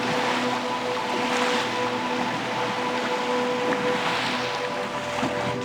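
Churning sea water slaps and rushes around a small drifting boat, with steady broadband wash and wind, loud and continuous with no talking.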